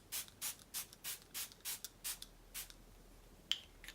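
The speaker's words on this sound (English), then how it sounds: "I'm going to spray myself with some primer water" A rapid series of about nine short, airy spray bursts from a Smashbox primer water mist bottle, evenly spaced and close, followed by a faint click.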